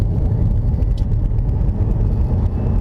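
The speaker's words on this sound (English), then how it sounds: "It's so quiet. All you can hear is road noise." Steady low tyre rumble and road roar fill the cabin of a 2017 Toyota Mirai hydrogen car on the move, with almost no engine sound, heard close and continuous.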